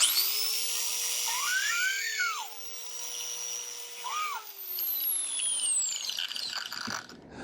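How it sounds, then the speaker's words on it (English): An electric drill spins a reamer through cork rod grips, giving a steady high whine with a couple of rising-and-falling grinding swoops as the tool bites, then tapering off and winding down at the end. "You can use a hand reamer, or as I have, I've just attached it to a drill."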